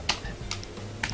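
A few sparse, separated keystrokes on a computer keyboard while writing Arduino code for an ultrasonic distance sensor with an LCD display, each click crisp and nearby over a quiet background.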